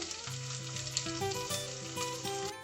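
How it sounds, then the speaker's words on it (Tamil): Oil sizzling steadily as shallots, mustard seeds and fennel seeds fry, a continuous crackling hiss with faint stirring clinks, fairly close and without speech. "இந்த சின்ன வெங்காயம், கடுகு, பெருஞ்சீரகம் எல்லாம் ஒரு 4 நிமிஷமாக இந்த எண்ணெய்க்குள்ள போட்டு பொரிய விடுறேன்"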